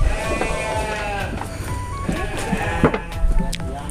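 Sheep, apparently rams kept apart because they fight, bleat repeatedly and fairly close over a few seconds of farm-pen background noise, with several wavering calls overlapping.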